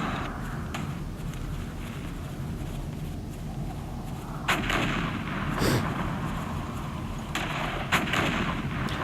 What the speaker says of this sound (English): I like the battle sounds and stuff like that.